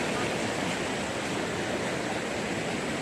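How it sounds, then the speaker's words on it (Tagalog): Puray Falls roars as a steady, dense wash of falling water, loud and unbroken throughout, with no other sounds standing out. "ayun na yung puray falls."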